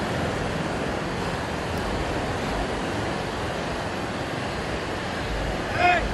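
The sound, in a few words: ocean waves at Kannur beach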